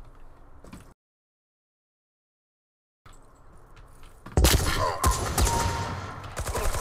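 In the video game SkillWarz, a pistol and then a long gun are spammed during a full sprint. Low ambience drops to dead silence, then a loud, dense burst of rapid gunfire erupts and continues to the end.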